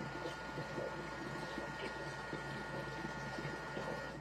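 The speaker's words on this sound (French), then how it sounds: "on va tourner le sélecteur à la vitesse 4 pour tout bien mélanger la crème avec tout le reste qui vient de cuire" A Thermomix running at speed 4, stirring cream into freshly cooked ingredients for a two-flavour dessert cream: a steady, even motor whir with a soft churning, liquid swish, continuous and close.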